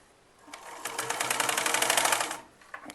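Domestic sewing machine stitching an elastic baby frock, a steady rapid whirring burst of needle strokes building up, running for about a second and a half, then stopping, close and clear with no talk.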